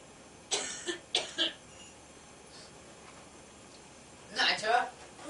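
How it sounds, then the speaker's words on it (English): A man coughs in a damp stone cavern, two or three harsh close bursts in quick succession, then a longer coughing fit a few seconds later over low background hiss. "how long have you had that cough?"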